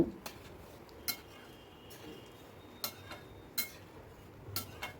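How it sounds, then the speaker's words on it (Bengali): A spoon taps and scrapes against a pan while milk gravy with potol is stirred, giving faint, evenly spaced clinks over a quiet background. "দিয়ে আবারও সব কিছু ভালো করে মিশিয়ে নিচ্ছি"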